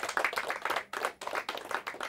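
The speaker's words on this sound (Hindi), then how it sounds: "इनके लिए जोरदार तालियां हो जाए" Crowd at a school quiz competition's final round claps for the teams, a sustained, dense patter of hands that briefly dips before swelling again, close and lively with no talking.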